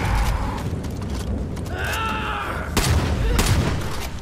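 Shotgun blasts in the video game Far Cry 5, two sharp loud reports late amid a dense, chaotic game soundscape of rumbling and mechanical noise.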